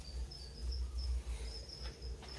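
Crickets in a humid breeding cage filled with coconut fiber give short, repeated high chirps at an uneven pace, close by, over a low background rumble.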